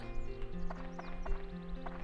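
Horse in the video game Dark Cloud, with steady clip-clop hoofbeats and a brief whinny over a constant game music background, moderately loud and close.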